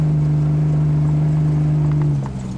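Engine of a car bogging down flat out in deep ground during a field race, a loud steady low drone that sags and drops off near the end.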